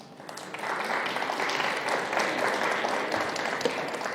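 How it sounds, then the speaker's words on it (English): Conference attendees at a tech data summit give the speakers a round of applause, the clapping swelling in quickly and holding as a steady, moderately distant patter. "Everyone, big round of applause for Sam and Yuri."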